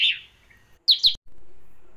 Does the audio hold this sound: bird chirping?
yes